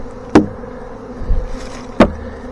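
A huge honey bee swarm fanning at a swarm trap, a continuous low buzzing hum broken by two sharp knocks and a brief rustle nearby.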